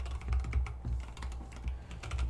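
Rapid, close clacking of keystrokes on a mechanical keyboard fitted with linear Tealios switches and sculpted high-profile keycaps, a dense continuous typing rhythm with no talk.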